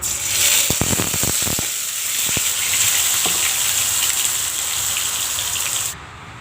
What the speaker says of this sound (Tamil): எண்ணெய் காஞ்சதுக்கப்புறம் இந்த அரைச்சி வச்ச பேஸ்ட்டு போட்டுடலாங்க.